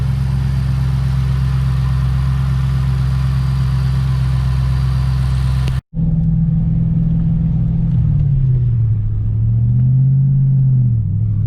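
A Shelby GT500 with a Trinity engine swap rumbles loudly at a deep, steady idle up close. After a sudden momentary cut, it continues with the pitch rising and falling as it gets underway.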